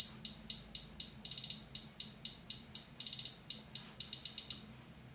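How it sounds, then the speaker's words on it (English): Chopsticks clicked together as hi-hats in a household-items beat, sharp bright ticks in a steady rhythm with quick roll bursts, close and alone. "I then made hi-hats, as you can see, out of hitting chopsticks."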